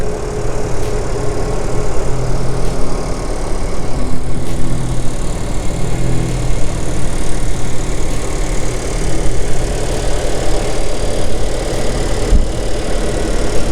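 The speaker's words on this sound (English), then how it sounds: "Now let's go check out that 2-liter engine, 149 horsepower, 146 pound-feet of torque." A 2020 Nissan Sentra's 2-liter, 149-horsepower four-cylinder runs at a steady idle, close up, with an even, continuous hum and no talking.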